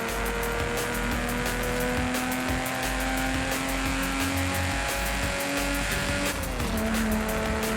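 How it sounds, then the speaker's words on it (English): A racing car engine in the video game Forza Horizon 5 drones steadily at high revs, its pitch shifting with gear changes, loud and continuous throughout. "Damn, this car sounds good."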